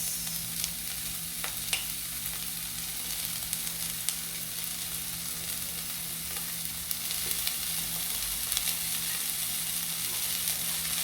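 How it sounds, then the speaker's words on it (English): Onions sautéing in olive oil for Italian arancini, a faint steady hiss of sizzling with occasional soft ticks and pops, low and even throughout with no speech. "oil of your choice to saute your aromatics. I'm going to put in my onions"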